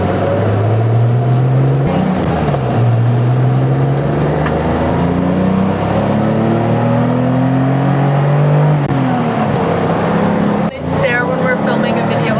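A 1980s BMW E24 M6 engine revs hard through gears, its rising harmonic bands sweeping up, dropping at a downshift near two seconds and climbing again, loud and close throughout, with a sharp lift near the end.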